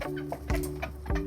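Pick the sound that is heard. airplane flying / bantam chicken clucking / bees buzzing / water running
bantam chicken clucking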